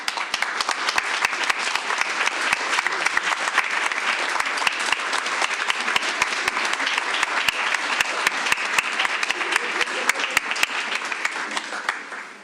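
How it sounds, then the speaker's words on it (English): An audience at a school board meeting applauds steadily, a dense patter of many hands clapping that holds level for several seconds before tapering off at the end. "We want to give you a round of applause."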